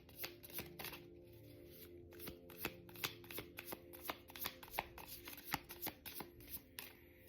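Tarot cards being shuffled by hand, a quick run of crisp riffling flicks and soft taps repeating in close, irregular bursts, quiet and without speech.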